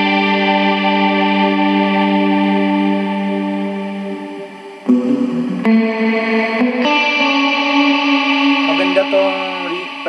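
Electric guitar played through a Boss RV-5 reverb pedal set for a sparkling, dreamy ambient tone: long sustained chords washing into lush reverb tails, with a new chord struck midway, loud and alone.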